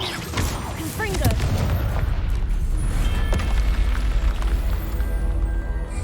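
Confringo fire spell blasting in the Hogwarts Legacy video game, a loud booming explosion with rumbling low end and crackling debris, layered with game music and effects, running continuously through the fight.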